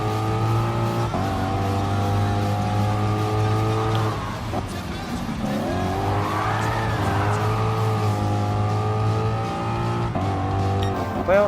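A race car engine drones and revs continuously in Gran Turismo Sport, with the pitch rising and falling through braking and acceleration into a corner.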